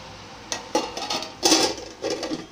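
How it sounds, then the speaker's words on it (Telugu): A plate set down as a lid over a pan of amaranth (thotakura) curry on a medium flame, giving several short close clinks and knocks of metal and crockery over a couple of seconds. "ఒక ప్లేట్ మూత వేసుకోవాలండి."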